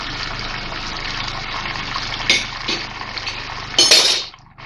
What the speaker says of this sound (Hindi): मैं इसमें अदरक डाल रही हूँ